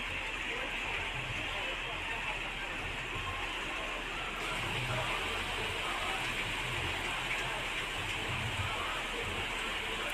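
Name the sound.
heavy rain falling in Bhopal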